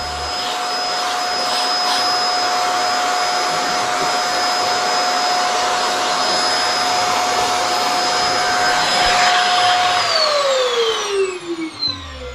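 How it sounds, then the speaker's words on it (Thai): A vacuum cleaner runs steadily close by, cleaning the griptape of a surfskate with a loud, constant whine, then winds down near the end. "ใช้เครื่องดูดฝุ่นมันไม่ค่อยออกเลยนะครับ"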